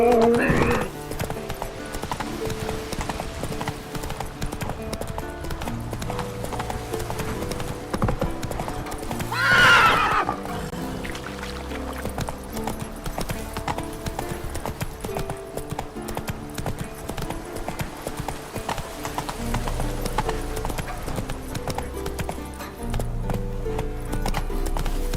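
In The Witcher 3: Wild Hunt, the horse Roach gallops with a steady drumming clip-clop of hooves across the whole stretch, and a loud whinny rises near the middle over game music and ambience.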